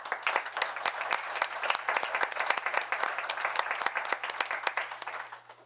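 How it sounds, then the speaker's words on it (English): A town board meeting audience breaks into applause for a proclamation recipient, crisp rapid claps from a room of people, steady and close for several seconds before tapering off at the end. "So please, round of applause for Ginny Nisi."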